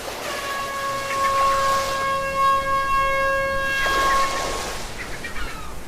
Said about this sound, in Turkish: Uzaklardan gelen vapurun düdük sesiyle uyanmış kuşlar.